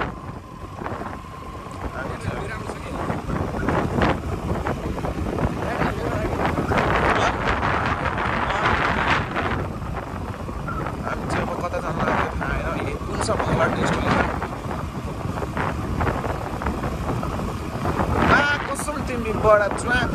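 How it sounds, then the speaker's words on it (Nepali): Strong wind sweeps across a long river bridge where a scooter rider crosses, roaring and buffeting the microphone in continuous gusts that swell louder midway, with voices faintly under it. "हावा चाहिँ खतरा हानेर आयो ल"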